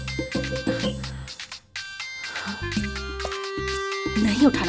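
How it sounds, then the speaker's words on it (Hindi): A mobile phone ringtone plays loudly and close, a bright electronic melody of repeated musical phrases with a brief pause before resuming, filling the whole few seconds. "इसका फोन क्यों आ रहा है?"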